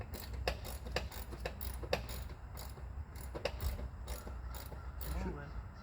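Repeated cranking of a leveling foot on a Norwood HD36v2 sawmill gives faint, irregular metallic ticks and ratchet-like clicks, a steady series of small mechanical knocks heard close and quiet.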